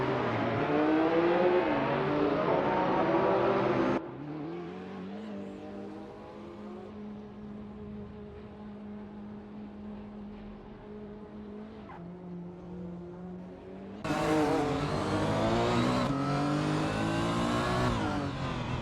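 A 1995 Ferrari F50 and rival cars in an AI-driven racing video game, engines loudly revving and roaring, dropping to a steadier mid-pitched drone in the middle before surging back to a loud, high revving burst at the end.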